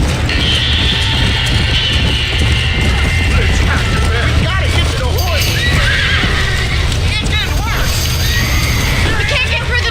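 Horses neighing and whinnying in panic inside a burning barn in Red Dead Redemption, with repeated shrill cries over crackling fire, clattering hooves and a loud, busy background of crashes and distant shouting voices.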